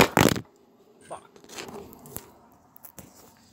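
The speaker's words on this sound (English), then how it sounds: "Dropped my phone." A phone drops with a sharp clatter at the start, followed by scattered handling knocks and rustles.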